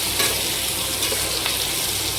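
Pointed gourd pieces hit a pan of frying onion and tomato, giving a steady, close sizzle with stirring scrapes throughout and no voices.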